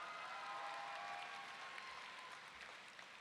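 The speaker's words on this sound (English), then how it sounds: "Give him a round of applause." Applause from a school crowd for a student, a steady, even wash of clapping heard from a distance and holding at one level throughout.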